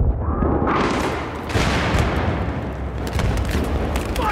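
Battlefield 3 combat: sustained gunfire and booming explosions in a dense, continuous fusillade, with sharp shot bursts cutting through rumbling blasts and no clear voices.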